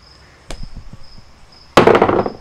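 A hammer lands a single sharp knock followed by a few light taps, then one loud, harsh impact with a ringing clatter near the end, all close and with no talking.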